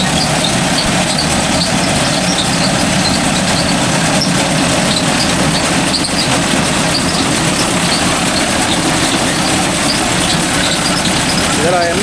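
A Mahindra Arjun Novo 605 DI tractor runs with a crop cutter bar in a field, its engine drone steady and loud throughout, with a busy mechanical clatter layered over it.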